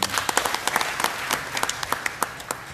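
Applause from an audience at a Korean forestry association gathering, honoring a policy director: brisk, dense clapping from a crowded room, steady and close, with sharp individual claps popping through.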